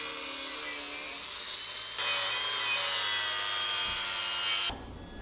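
A power grinder whines as it bevels the steel edges of a custom overland van bumper, cutting out briefly and then resuming louder before stopping.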